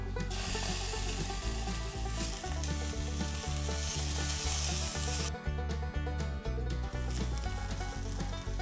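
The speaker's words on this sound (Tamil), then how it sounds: "இப்போ அடுத்து நம்ம எடுத்து வச்ச இஞ்சி பூண்டு விழுதை சேர்த்துப்போம்" Ginger garlic paste sizzles loudly with onions in a pan for dhaba-style kadai paneer. A dense, continuous fry is broken by rhythmic scraping strokes of stirring, close and unbroken by talk.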